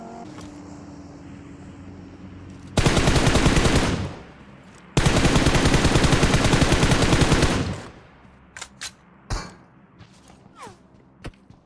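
Two long, loud bursts of rapid automatic gunfire in PUBG Mobile, each lasting a couple of seconds with a short gap between them, followed by a few scattered sharp clicks and softer thuds.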